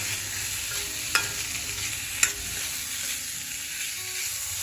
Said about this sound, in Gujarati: ત્યાર પછી આપણે થોડા સફેદ તલ એડ કરીશું અને હવે આપણે બધું બરાબર મિક્સ કરી લઈશું